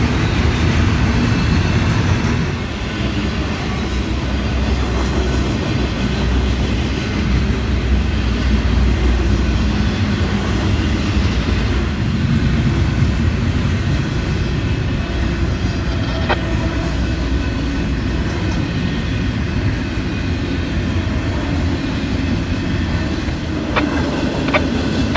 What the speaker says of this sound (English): They had an SD-70 ACU EMD on the point, followed by an ES-40DC and a D9-40 CW for power.